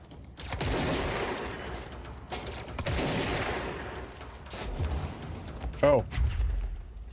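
Grenades being fired in the video game Control come as several loud bursts and thuds in quick succession, with a brief sharp tonal sweep near the end. A person talks over the blasts.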